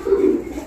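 A Sialkoti pigeon gives one brief, low, throaty coo, close by and fairly loud.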